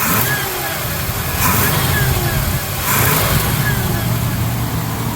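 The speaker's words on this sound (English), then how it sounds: "I'm going to try to reach in here, rev it up for you guys." A 1978 Jeep Cherokee engine under the open hood, revved by hand in a few loud rising and falling surges over a steady close idle rumble.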